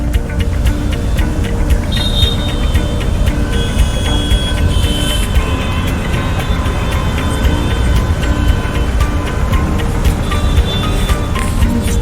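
Inside a taxi crawling through Mumbai traffic, the road noise and engine drone stay continuous. Faint honks and clatter from surrounding vehicles sit on top of the low rumble.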